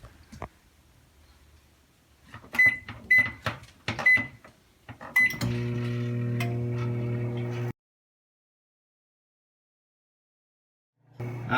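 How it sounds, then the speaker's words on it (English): A microwave oven heating a bar of soap: keypad beeps and clicks as it is set, then a steady low mechanical hum for a few seconds before it stops, leaving silence and a faint sound returning at the end. "you're going to turn on the microwave and see what happens"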